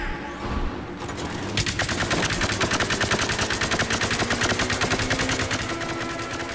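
Rapid automatic gunfire in the shooter Plants vs. Zombies: Garden Warfare, a dense, loud stream of shots that starts after a brief pause and keeps a steady rattling rhythm to the end.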